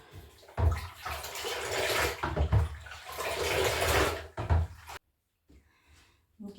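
Liquid pours into a spray bottle for treating houseplants with insecticide, a close, gurgling stream running for several seconds before stopping abruptly, followed by a few faint handling sounds.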